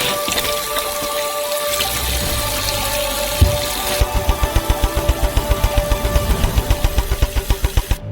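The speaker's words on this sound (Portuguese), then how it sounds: "Enchemos elas com água e lavamos todas as laranjas." Running water splashes steadily into a kitchen sink as oranges are washed, a continuous wash of spray with a rhythmic series of soft knocks building through the second half.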